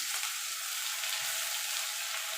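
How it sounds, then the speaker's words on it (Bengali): Halved ginger and garlic frying in hot oil with dried chilli and five-spice seeds, a steady close sizzle and crackle holding evenly throughout without any voices. "দিয়ে আদা রসুনটা একটুখানি ভাজা ভাজা করে নেব যতক্ষণ আদা রসুনের কাঁচা গন্ধটা চলে না যাচ্ছে"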